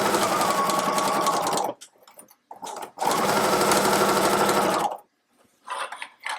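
A sewing machine back-tacks at the handles of a fabric tote bag, running in two steady bursts separated by short stop-and-start stitches, ending with quick intermittent runs.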